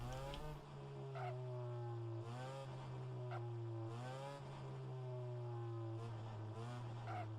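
A race car in rFactor 2 circles a Toronto street circuit, its engine droning steadily and rising and falling in pitch through repeated upshifts and lulls, close and continuous with no talking.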